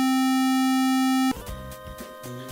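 Retro game sound channel tone. A steady pure tone gives way to a buzzy, harmonically rich square-wave tone playing a quick chiptune phrase, loud and alone.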